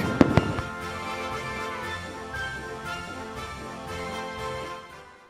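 A fireworks display at a summer community event opens with a couple of sharp loud bangs, then settles into a lingering crackling, sizzling wash of distant bursts that gradually fades.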